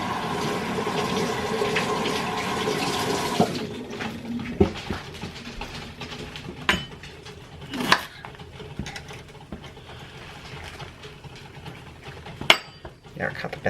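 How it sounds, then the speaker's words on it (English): Celery is washed in a kitchen sink under a running tap, with a steady rush of water for a few seconds, then quieter splashing, drips and light clatter, and a voice talking now and then. "let me wash this first. Let me wash it."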